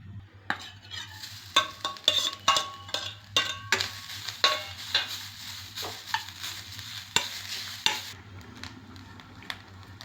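Grated coconut roasts in a pan over a faint sizzle, with a metal spoon repeatedly scraping and tapping in an irregular stirring rhythm, close by and with no talk.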